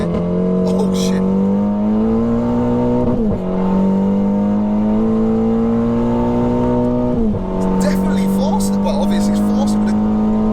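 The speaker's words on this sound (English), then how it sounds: "you can hear the traction control working and like the DSG kind of letting on and off the power" A 360bhp Revo Stage 2 Scirocco R with DSG gearbox accelerates hard in second gear, its loud, steady engine drone cutting in and out twice as traction control trims the power, with a brief tyre chirp and people talking over it.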